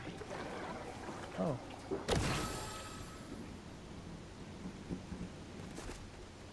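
A thunder crack booms and rolls through the Fortnite storm warning, a loud broadband burst that decays over a second or two beneath rainy ambience, with a voice reacting briefly just before.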